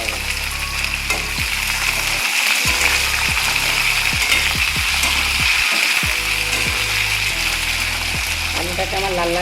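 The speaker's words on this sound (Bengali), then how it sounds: "দিয়ে এবার আলুটাকে লাল লাল করে ভাজতে হবে" Potatoes frying in hot oil for a banana-flower dish, a loud continuous sizzle with rhythmic ticking and clattering from stirring, close up.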